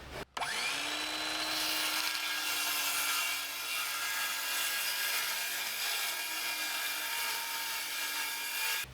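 A power saw cuts steadily through an OSB board for a shop door wall frame, a loud continuous whining rasp that starts abruptly after a brief pause and runs unbroken to the end.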